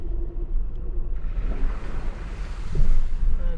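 Stream water flowing down from Parvati Sarovar on the Adi Kailash route rushes in a loud, steady broadband roar, mixed with wind buffeting against the microphone and swelling slightly toward the end.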